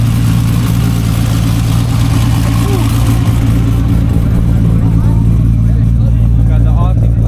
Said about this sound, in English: We've got the R32 GTR up and started.